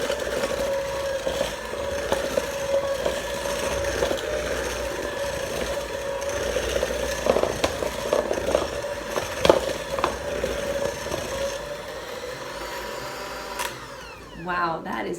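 An electric mixer whirs steadily in a bowl of chocolate chip cookie dough, a loud continuous drone with slight pitch shifts and rattles as it works, briefly changing near the end.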